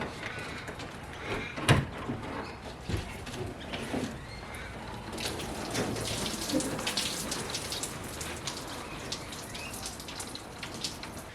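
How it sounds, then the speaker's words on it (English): A garden hose sprays water in a steady hiss against the taut fabric of an Adventure Kings Grand Tourer rooftop tent, with a soft pattering of drops, continuous and fairly close. "I'm going to grab the hose, we'll give it a good spray"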